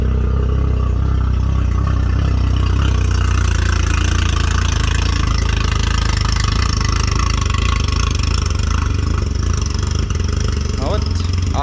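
An outboard boat motor idles just after its first start, a loud steady mid-pitched engine drone that runs throughout, with people talking over it.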